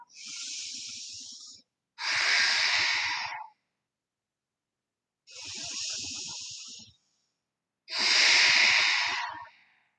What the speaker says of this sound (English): Breathing deeply here and looking towards your toes.